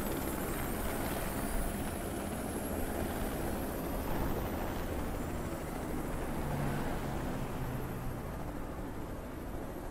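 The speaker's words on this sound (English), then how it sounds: "I do believe that is a helicopter." Helicopter in the video game Watch Dogs 2, a dense, steady rotor and engine roar that stays loud and unbroken from start to finish with no voices.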